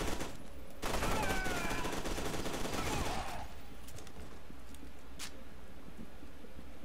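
Gunfire in FEAR 2, a dense burst of automatic shots lasting a couple of seconds, followed by quieter ambience and a single faint later crack.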